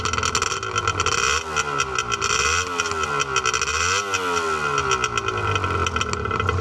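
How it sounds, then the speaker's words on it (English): A Rothmans 1985 Honda NS400R two-stroke motorcycle revving through its exhausts, a loud raspy engine rising and falling through several blips, close and continuous with crackling edges, with no talking. "I'll give you a little listen to those exhausts."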